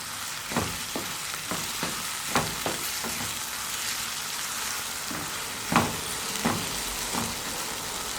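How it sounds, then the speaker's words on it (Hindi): Potatoes with chili frying in a pan as a spoon stirs them, a steady sizzle broken by repeated scraping clicks every second or so, close and moderately loud with no voices. "और इन्हें भी 3 मिनट तक फ्राई कर लेंगे"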